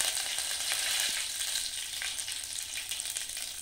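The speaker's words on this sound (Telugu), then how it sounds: "ఆయిల్ వేడెక్కిన తర్వాత జీలకర్ర, ఆవాలు వేసుకోవాలి." Cumin, mustard seeds and cut red chillies fry in hot oil, a bright, steady crackling sizzle close by with scattered tiny pops and no talk.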